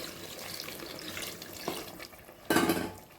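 Water splashes and trickles into a metal pot for mutton biryani, starting softly and then rushing louder near the end, close by with no speech.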